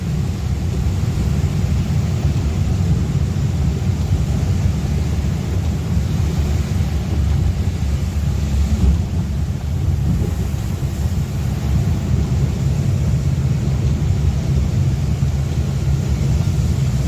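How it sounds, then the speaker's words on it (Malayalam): Heavy rain and rumbling weather heard from inside a vehicle on a road trip into Kerala, a steady loud low roar of rain and road noise lasting throughout with no talk. "നല്ല മഴയാ എന്തായാലും."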